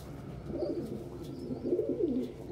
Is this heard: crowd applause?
no